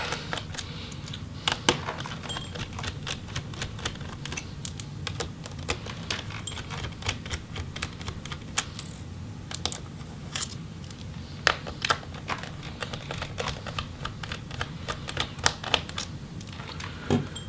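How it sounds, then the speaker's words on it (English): Small screws are being removed from a Lenovo Legion Y7000P laptop, giving a run of faint, irregular ticks and metallic clicks over quiet room tone, with no talk. "And then you'll just have to remove the 4 screws."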